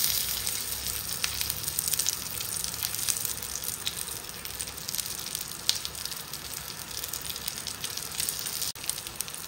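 Goan beef cutlets sizzle steadily in hot oil in a pan, a soft continuous crackle and hiss with occasional sharper pops, fairly quiet and close, with no talking.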